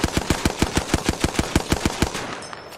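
Rapid automatic gunfire in a video game: a steady burst of about fifteen evenly spaced, punchy shots over two seconds, close and loud, then a brief fading tail.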